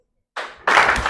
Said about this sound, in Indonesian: Yang relate tepuk tangan 1 kali, yang nggak relate gak usah tepuk tangan.